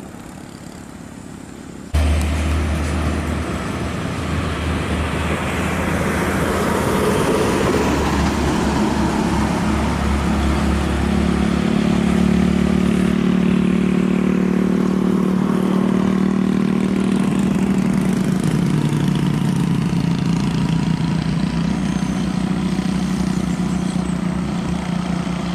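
Bus and traffic passing on a road bend: a sudden loud rush as a large vehicle arrives, then a sustained engine drone and road roar that swells and slowly fades, heard close with no talk.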